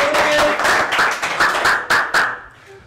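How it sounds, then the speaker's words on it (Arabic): A small gathering claps in a burst of distinct, fairly close hand claps at a quick, uneven rhythm, thinning into a few last claps before it stops. "والنعم تصفيق"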